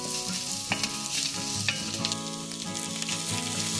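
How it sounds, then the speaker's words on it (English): Vegetables frying hard in a hot wok, a loud, steady sizzle and crackle with occasional stirring clatter, close and continuous. "We'll give them a few minutes until the vegetables are cooked down a little bit and you see slight char on them."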